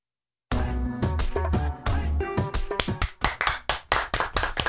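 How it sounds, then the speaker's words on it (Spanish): Applause fills a sports radio show studio, sharp rhythmic claps that start abruptly after silence, play over tonal music and grow quicker and more clipped toward the end. "aplausos, aplausos con ánimo, señores"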